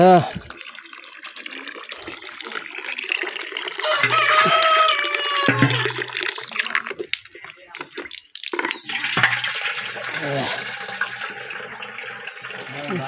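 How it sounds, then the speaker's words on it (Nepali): Water runs and splashes from a tap, rising and falling in strength, with scattered clatter and a voice speaking briefly in between. "पानी आइरहेछ पानी आइरहेछ"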